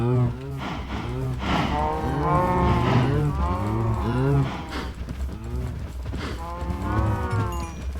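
Cattle in a video game moo repeatedly, several drawn-out calls overlapping close and loud across the whole stretch, with a brief pause before a final low moo.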